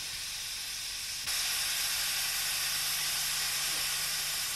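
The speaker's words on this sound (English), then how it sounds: "that is the steam engine and the travelling thrashing machine" Constant loud hiss of escaping steam from a steam engine driving a travelling threshing machine, jumping louder partway through, with a low mechanical hum beneath.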